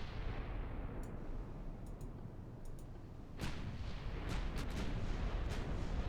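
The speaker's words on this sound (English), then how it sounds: "Target locked. Guns turning. Guns turned. Open fire." Naval guns firing in the warship game Ultimate Admiral Dreadnoughts, a continuous rumbling barrage of distant booms with a sharper blast midway and scattered crackling reports over a dense low roar.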